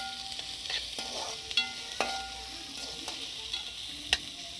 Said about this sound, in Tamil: வெங்காயத்தை சேர்த்து நல்லா கலக்கி விடுங்க.